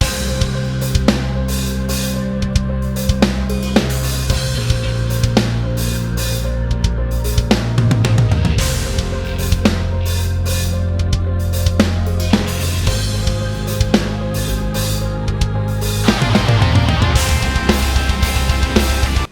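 Metal demo drum track with a programmed MIDI kick, steady punchy kicks and sharp snare and cymbal hits driving a dense, loud groove with bass and guitars, no voices.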